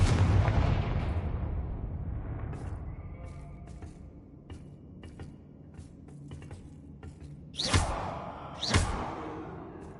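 A Confringo blasting spell in the video game Hogwarts Legacy sets off a booming explosion that decays into a long rumble. Scattered crackles follow, then two sharp whooshing blasts near the end, with no talking.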